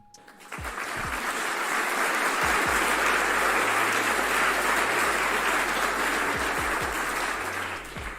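Sustained applause from a crowd, dense clapping rising quickly and holding steady for several seconds before tapering slightly at the end, with a few low thumps beneath.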